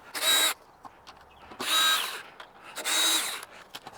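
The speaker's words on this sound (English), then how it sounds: "I just have to take out the 3 bolts there" Power driver backing out bolts from a Givi bag rack on a Royal Enfield Himalayan motorcycle, three short whirring bursts about a second apart, close and clear, with small clicks between.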